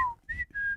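Three short whistled notes from a person, a brief falling tone followed by two steadier held pitches, close and fairly quiet with no other sound.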